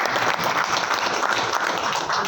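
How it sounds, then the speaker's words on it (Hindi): An audience gives steady, loud applause for a couple of seconds, dense clapping from many hands. "जोरदार ताली आप सभी के"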